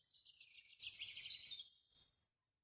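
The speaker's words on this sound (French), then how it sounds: "c'est pas un enregistrement les oiseaux" Birds sing live outdoors in a natural setting, one bright high warble flowing into a louder burst of chirps, then a short thin whistle, faint and fairly close with quiet between phrases.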